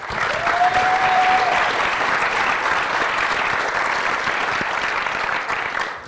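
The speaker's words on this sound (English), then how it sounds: "Applause before the talk is even better" A conference audience applauds the speakers at ShmooCon 2015, a sustained, even wash of many hands clapping that holds steady for several seconds, with a brief whistle near the start.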